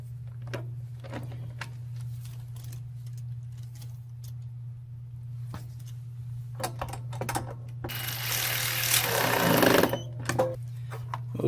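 A power driver tightens a screw on a Briggs & Stratton Intek 190 engine, a brief loud whirring burst near the end that follows scattered clicks and handling noises over a steady low hum.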